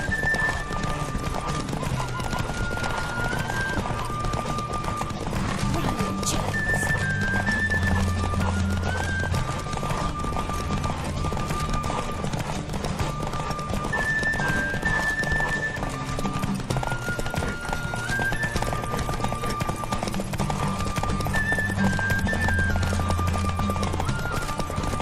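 A horse in The Witcher 3 video game gallops with a steady, continuous clip-clop of hooves, broken by occasional neighs and whinnies, over a tonal game soundtrack.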